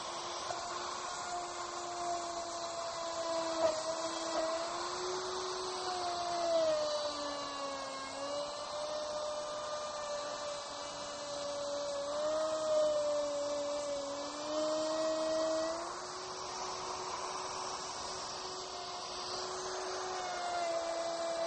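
Wood router plunging through a homemade jig on a shop-built router table to cut a groove, a steady high whine that wavers slightly in pitch as it bites, running continuously and fairly loud with no talk.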